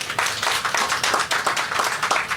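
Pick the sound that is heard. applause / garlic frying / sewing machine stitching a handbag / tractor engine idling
applause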